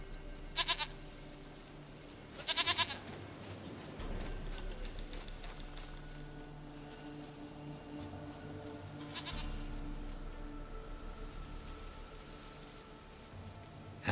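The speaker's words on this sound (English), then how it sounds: "Goat of mine, dearest, sweetest goat." A goat in The Witcher 3 video game bleats in two short bursts near the start and later once more, set over a steady in-game ambient bed with low rumble and no talk.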